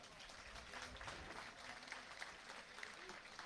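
Applause for two pétanque teams at a PPF Tour 2023 match in Draguignan rises from a crowd, steady and somewhat distant, with faint voices mixed in.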